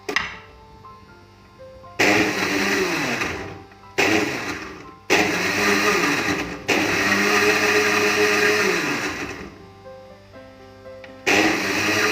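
An electric blender crushes Oreo biscuits with two cubes of ice cream for a shake, running in loud close bursts that start abruptly and whine down between pulses, with short pauses and no talk.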